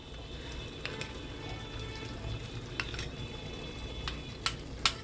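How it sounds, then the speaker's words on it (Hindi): Cream stirred into cauliflower kofta gravy in a pan over low heat: a soft, steady simmer with gentle scraping and a few sharp clinks of a spoon against the pan near the end. "क्रीम डालने के बाद हम इसको चलाते रहेंगे, आंच को धीमा रखेंगे।"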